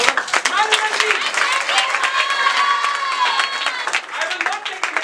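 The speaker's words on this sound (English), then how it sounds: "Commendable round of applause for the management team." A crowd at a celebration claps for a management team, a dense, loud wash of applause and cheering, with voices talking over it throughout.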